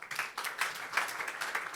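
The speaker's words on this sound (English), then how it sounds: "So please do give us a big round of applause for our panel on AI for public good." A conference audience at CogX Summit 2024 applauds a panel on AI for public good, a brief, soft burst of scattered clapping without voices.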